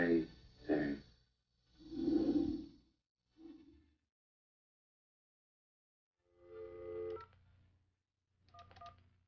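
AT&T video phone dialing, a series of clipped electronic tone bursts in short clusters, heard alone after a few breathy vocal sounds at the start, with quiet gaps between the groups of tones.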